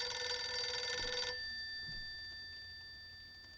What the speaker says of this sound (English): Who calling on this phone?